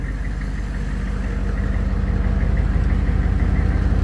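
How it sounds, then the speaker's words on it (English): An Extreme Aire Magnum on-board air compressor runs continuously, a steady close mechanical drone with a fast, even pulsing hum that grows slightly louder. "I'm going to turn the air compressor on"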